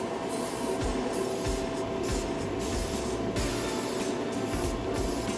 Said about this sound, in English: We're going to pick up some brake cleaner